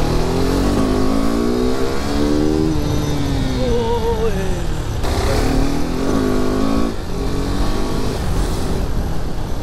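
KTM RC 390 motorcycle with freshly changed oil, engine revving steadily while being ridden, loud and close with rising and falling pitch through gear changes, no talk.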